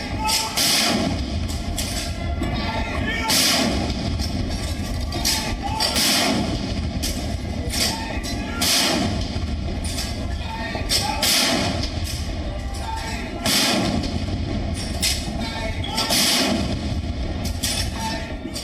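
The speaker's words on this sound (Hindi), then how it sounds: "ध्वजारोहण के समय 105 mm लाइट फील्ड गन से फायरिंग की गई थी।" Ceremonial salute from 105 mm light field guns at a flag hoisting, heard as a regular series of heavy booming thuds spaced a couple of seconds apart over a continuous crowd or broadcast background.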